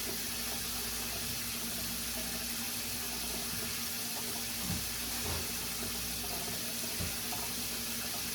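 Water runs steadily from a kitchen tap as it warms up, a constant broadband rushing hiss that stays even throughout, with a few faint clinks underneath.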